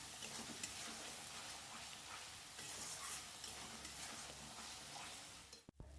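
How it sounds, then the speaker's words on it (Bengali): Spice masala is stirred and fried in a pan before the meat goes in, giving a steady broadband sizzle with soft scraping strokes throughout and a brief drop in sound near the end, with no talking. "মশলাটা ভালো করে কষিয়ে নিয়ে তারপরে এর মধ্যে মাংসটা দেবো"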